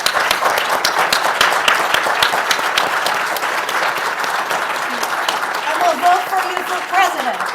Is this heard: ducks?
no